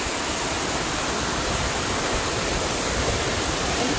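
Punnayar waterfall in Idukki, a dense, loud, continuous roar of falling and splashing water heard up close, unbroken throughout.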